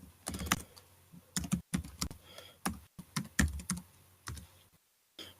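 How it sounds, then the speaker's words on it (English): Someone types a website address on a computer keyboard in a conference talk setting, with close bursts of rapid key clicks separated by brief pauses, loud and alone. "let me just type that in"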